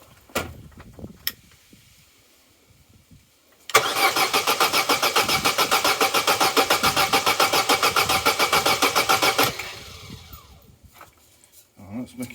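A Vauxhall Corsa B engine cranks without catching, a loud, rhythmic whirring churn lasting about six seconds and then stopping, with a few clunks and faint talk before and after.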